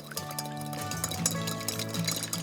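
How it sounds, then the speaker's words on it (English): Water trickles in small amounts into a lemon juice and extra virgin olive oil dressing, making a continuous close pouring and splashing sound with light clinks. "now to make it lighter, I'm gonna add water a little at a time"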